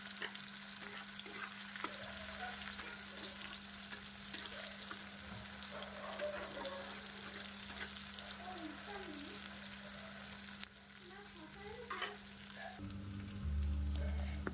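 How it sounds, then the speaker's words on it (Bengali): Chopped onions sizzle and fry steadily in a pan for chicken curry with potatoes, a continuous close crackling hiss with small pops and occasional stirring, no talk over it. "পেঁয়াজগুলো লাল লাল করে ওখানে ভেজে নেব।"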